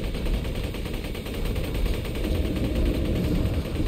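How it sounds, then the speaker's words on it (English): Sustained, dense automatic gunfire aimed at the Warrior boss in Borderlands 2, a loud continuous roar of shots with no pauses, close and filling the whole stretch. "just keep shooting at him and eventually he will die"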